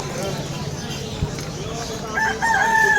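Chickens crow and cackle in the background amid busy street noise and people talking at the Malabon pet market, the calls growing louder toward the end.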